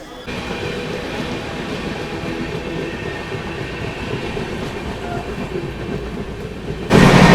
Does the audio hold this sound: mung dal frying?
no